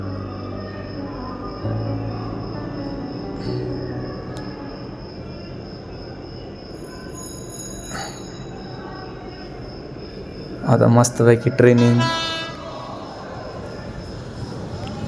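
A non-stop express train rushes past a village station, a continuous rumble of wheels and wagons with a loud burst of rail noise near the end, while someone talks over it.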